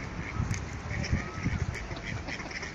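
Wild ducks quacking on a small city river where they stay through winter, a cluster of repeated nasal calls close by, with light background noise and a faint voice or two.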